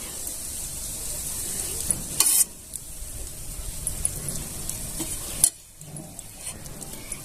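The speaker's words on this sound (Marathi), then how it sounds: "गॅस मोठा करून रवा छान असा भाजून घ्यायचा" Semolina roasting in homemade ghee in a pan, with a soft continuous sizzle and scraping stir strokes, plus two brief louder clatters of the utensil against the pan, close by.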